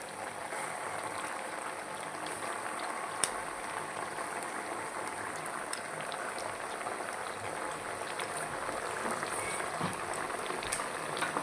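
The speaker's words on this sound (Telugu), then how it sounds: "ఈ ఆయిల్లో మనం అల్లం పేస్ట్ వేసుకోవాలన్నమాట. పచ్చివాసన పోయే వరకు వేయించుకోవాలన్నమాట అల్లాన్ని" Ginger paste frying in leftover oil for a gongura chicken pickle gives a dense, even hiss that holds steady and close for the whole stretch, with no talking.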